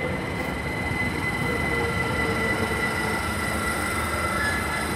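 A Class 387 electric train passes through Cholsey station, heard close and loud as a steady rumble with wheel squeal and rail noise. The sound stays constant for the whole five seconds. No voices.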